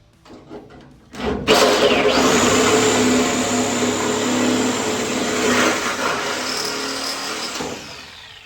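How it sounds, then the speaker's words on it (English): A Sawzall reciprocating saw bites into the body of a 1978 Firebird, starting after a few soft knocks and then buzzing loud and steady for several seconds close by, tapering slightly at the end. "for the bigger cuts, to get more work done in a quicker amount of time, yes, we are once again using the Sawzall"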